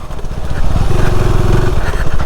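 A KTM Enduro 390 R motorcycle engine runs close by at a steady, throaty putter and stays loud for the whole short stretch, with no clear talk over it.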